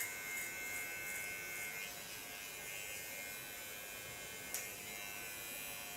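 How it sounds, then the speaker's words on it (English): A small electric hair clipper buzzes steadily and faintly as it trims the sides of a head of hair, a thin continuous hum with a brief click partway through. "I use my small clipper of Kione to clean the sides"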